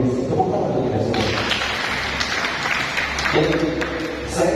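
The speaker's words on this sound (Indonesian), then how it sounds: "Tepuk tangan untuk kita semua." Clapping from an audience at an Islamic leadership lecture, a broad steady wash of applause lasting several seconds while a speaker's voice continues over it.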